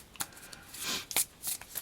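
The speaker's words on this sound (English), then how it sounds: "But it does feel like it shuffles fine. It's a nice smooth shuffle." A deck of playing cards shuffled up close in a few quick riffling bursts, crisp and alone with no talking.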